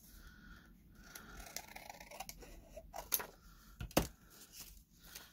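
Scissors cut through folded paper in a quiet room, making a series of soft, close snips and crunches at an uneven pace, with one sharper snip near the end and no talking.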